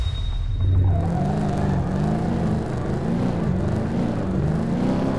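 Porsche race car engine in the Top Drives driving game, a steady droning rumble with wavering pitch as it holds speed through a race, loud and continuous with no talk.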